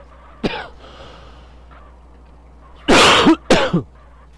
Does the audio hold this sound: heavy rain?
no